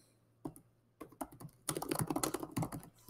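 Typing on a computer keyboard to enter a theme name: a few scattered keystrokes at first, then a dense run of quick, close clicks, with no voices.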